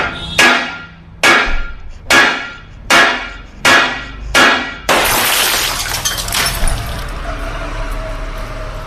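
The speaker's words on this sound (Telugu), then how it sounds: "ఈ గ్లాస్ చూడండి ఎన్నిసార్లు కొట్టినా బ్రేక్ అవ్వట్లే, ఇంకా గట్టిగా కొట్టాల్సి వస్తుంది" A hammer strikes toughened glass six times in an even rhythm, each blow a sharp ringing knock, and then a sheet of normal glass shatters into a long crashing, tinkling spill of fragments close by, with no talking.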